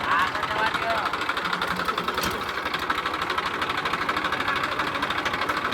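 A tractor engine runs close by on a farm while wheat fertilizer is being loaded, with a rapid, even chugging knock throughout and voices faintly underneath.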